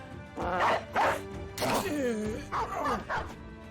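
A war dog in the video game Battle Brothers barks, yips and snarls in several short bursts while attacking a swordsman, loud and close, mixed with game combat sounds.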